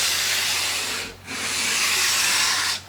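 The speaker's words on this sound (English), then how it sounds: "we'll just start off with a little 150 grit just to make that pitting stand up" Hand sanding with 150 grit paper on a pitted steel Colt Lightning revolver: two close, steady abrasive strokes of loud scratchy rubbing, split by a brief pause.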